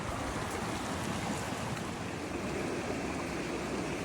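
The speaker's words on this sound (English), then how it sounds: "So I got this nice little creek I can get some water from." Small mountain creek on a July hike toward Mt. Whitney, steady broadband rush of flowing water filling the whole stretch, close and continuous with no talking.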